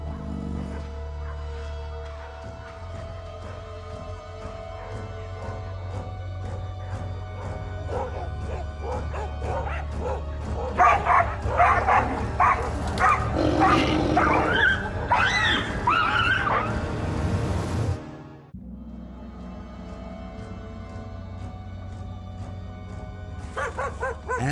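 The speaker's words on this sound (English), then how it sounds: "As usual, dogs are the first to sound the tiger alarm." Dogs in Russia barking an alarm at a tiger, repeated barks with some yelps and whimpers, rising to a busy, louder stretch of overlapping barks before it suddenly drops away.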